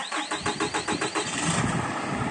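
An Isuzu 5.2 litre turbo diesel in a 2014 box truck cranks with a quick rhythmic churn and fires up at once, settling into a steady, loud diesel idle close by.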